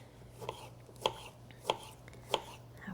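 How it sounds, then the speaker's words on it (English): A knife slices a halved tangerine on a cutting board for sake sangria, giving four crisp, evenly spaced chops that are fairly quiet and close, with no talking. "I'm just going to cut that in half and then slice that up."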